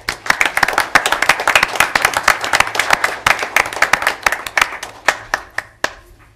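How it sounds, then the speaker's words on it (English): Audience members clap at a city council meeting, a round of applause of distinct, fairly close hand claps that thins out to a few scattered claps toward the end. "Give these guys a round of applause."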